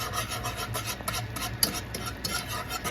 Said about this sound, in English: Just go ahead and keep whisking and keep whisking.